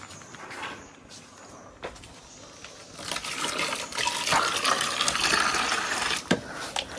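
Tap water gushes and fills a container for thinning paint during a room repainting job, starting softly then running loud and steady after a few seconds, with a couple of sharp knocks.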